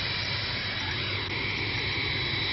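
Aircraft engines drone steadily as planes are moved out of a hangar, a continuous loud jet-like roar with no clear changes and no voices.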